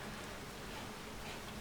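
Steady rain falls in a farming video game, a soft, even hiss of drops that stays faint and unbroken throughout, with no voices over it.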